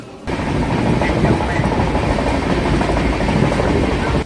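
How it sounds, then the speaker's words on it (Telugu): A train rolls into Gooty junction on the Kadapa to Kurnool route, a steady loud rumble of wheels and cars that starts abruptly after a brief quiet moment and holds without break. "గుత్తి జంక్షన్లోకి మన ట్రైన్ అయితే ఎంటర్ అవుతుంది"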